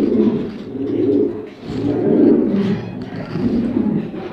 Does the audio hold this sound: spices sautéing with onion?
no